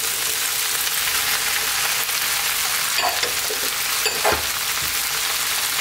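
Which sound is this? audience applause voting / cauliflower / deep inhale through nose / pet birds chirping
cauliflower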